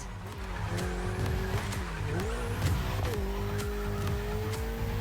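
Ferrari 488 in The Crew Motorfest racing game, engine revving through shifts with tire squeal and skidding, loud and continuous over about five seconds.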